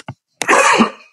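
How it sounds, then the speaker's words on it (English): A single loud, raspy cough close to the mic, preceded by a tiny catch in the throat. "I'm going to cough for a second"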